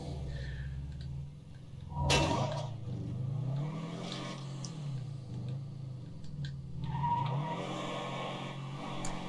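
Car in the zombie survival game State of Decay 2, engine droning with rising and falling revs, tires skidding and squealing in bursts as it swerves, loud and close.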